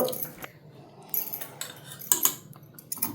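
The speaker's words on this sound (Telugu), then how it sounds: "ఈ ముక్కలన్నీ ఒక బేషన్లోకి వేసుకుంటున్నాం" Chopped cucumber and coconut pieces tipped into a metal basin, heard as a few close clinks and light clattering knocks with short scraping contacts, no voices.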